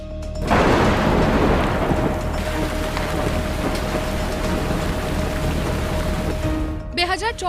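Heavy unseasonal rain in Gujarat pours steadily in a dense, continuous hiss, loud and close, with a brief voice at the very end.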